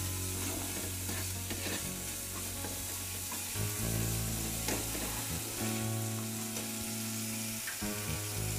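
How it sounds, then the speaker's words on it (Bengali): Mustard paste with turmeric and salt frying in a pan for a Bengali tangra fish dish, giving a low, steady sizzle with stirring scrapes close by, under a constant background hum, with no one speaking. "সর্ষেটা ভাজা হচ্ছে"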